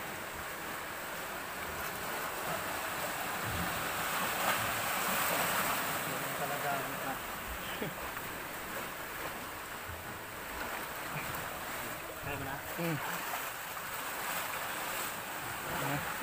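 Steady wash of ocean waves and surf slapping against a boat, with wind buffeting the microphone throughout; a few faint voices in the background.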